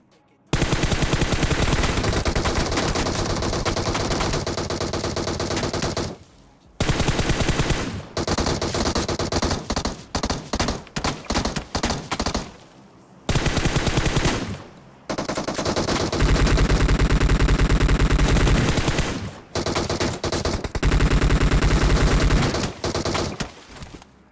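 DP, AKM and M16 automatic fire in PUBG Mobile, long loud sustained bursts broken by short pauses, close and dense, repeating for over twenty seconds with no speech.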